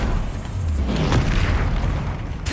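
A fiery Incendio spell blast in Hogwarts Legacy, a deep booming burst that swells and rumbles briefly, loud and close against the game's background.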